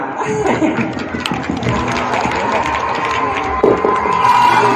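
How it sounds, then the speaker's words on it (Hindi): Audience at a Great Raja Master Drama Company stage show breaks into steady applause mixed with crowd cheering and some laughter, loud and dense throughout, with voices in the crowd. "तालियां"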